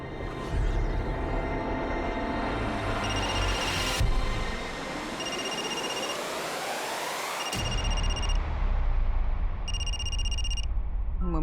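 A telephone rings in repeated bursts, with a steady rumbling rail-like background throughout and no talking.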